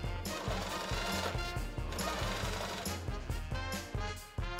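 A sewing machine stitches bias binding on a bib, 1 mm from the inner edge, running in steady rapid bursts with brief pauses between runs, close and fairly loud with no voices.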